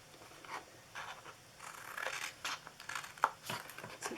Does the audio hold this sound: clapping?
no